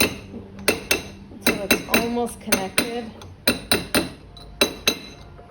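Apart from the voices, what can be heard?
hammering a 22k gold ring into shape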